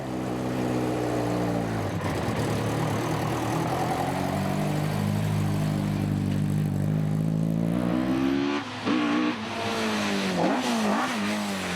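Rally cars at a shakedown for the Legend Boucles de Bastogne, among them a Ford Escort Mk II, with engines revving loudly and continuously, rising and falling in pitch, then a brief dip and sharp rev bursts near the end.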